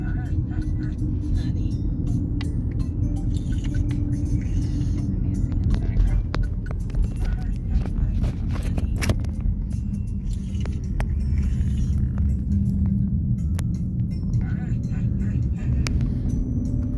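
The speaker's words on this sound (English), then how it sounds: "driving down the coastline of Hampton," Car driving along the foggy coastline of Hampton, New Hampshire, a steady low engine and road rumble that stays loud and constant throughout, with no talk over it.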